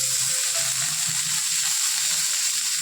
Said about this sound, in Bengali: তো করলাটা আমি ভেজে নেবো এখন